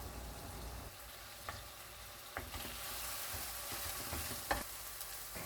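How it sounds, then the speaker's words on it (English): Kimchi fried rice ingredients with soy sauce sizzle in a hot pan while being stir fried, with steady frying crackle and intermittent scraping strokes from a utensil, close up and no speech. "Mix and stir fry."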